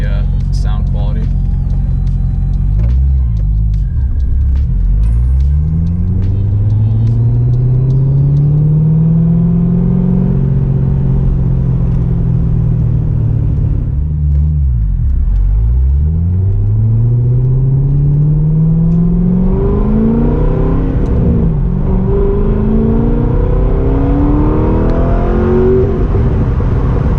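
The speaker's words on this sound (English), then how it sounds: "threw on some Borla Attack axle back mufflers. So surprisingly enough, it does sound pretty good." Corvette C6 Z06 with cylinder head work and Borla Attack axle-back mufflers, a deep loud exhaust rumble heard while cruising, rising and falling through several revving pulls, with someone talking over the engine.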